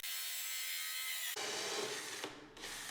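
A 1.5 inch hole saw cuts through a Mustang GT engine cover, giving a loud steady grinding whir that changes pitch abruptly partway through and then drops off briefly near the end.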